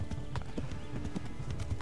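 A horse gallops in the video game Kingdom Come: Deliverance, its rapid hoofbeats thudding in a steady rhythm, close and fairly loud, with a brief whinny mixed in.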